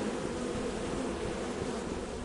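Dense, steady buzzing of a swarm of bees in the video game Lethal Company, continuous and fairly faint with no breaks.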